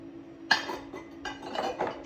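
Fired ceramic pot bases and saucers are lifted out of a kiln and clink together, a sharp knock followed by a few lighter clinks and scrapes over a steady hum.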